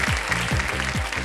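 A TV quiz show studio audience claps in a dense burst of applause, with a rhythmic musical thump pulsing beneath the clapping.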